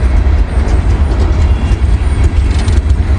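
A big freight train with double DPU locomotives rolling past after a snowfall, a loud close heavy rumble of wheels and cars with a steady low drone, no voices.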